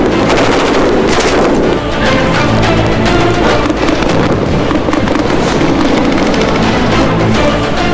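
Sustained, dense bursts of automatic and rapid gunfire from SSG commandos practising on a firing range, loud and continuous with overlapping reports and no pauses throughout.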